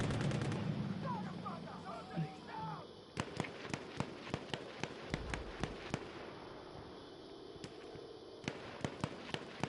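Gunfire and explosive blasts in a Battlefield clan-wars match, a dense run of sharp loud cracks and booms that starts after about three seconds and keeps going, with faint voices and chatter mixed in early on.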